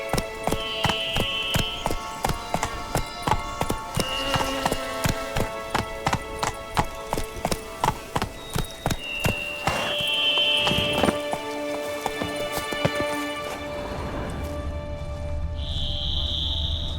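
Roach the horse gallops in The Witcher 3: Blood and Wine, with loud, close, rapid hoofbeats in a steady rhythm over game chimes and tones, then slows near the end, with no talking.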